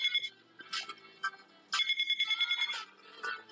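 A cell phone rings in the game The Lost Child, a faint electronic ringtone playing two short warbling bursts separated by a pause.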